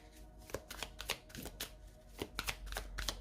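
Tarot cards are shuffled by hand up close, a quick run of soft riffling slaps and flicks in a steady irregular rhythm, fairly quiet and with no voices.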